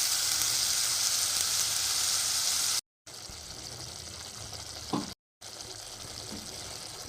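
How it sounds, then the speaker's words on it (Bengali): Masala with tomato and coriander leaves sizzles steadily in a pan for dhaba-style chicken curry, a loud continuous hiss broken by two brief silent gaps. "মশলাটা একটু কষিয়ে নেবো দু মিনিট"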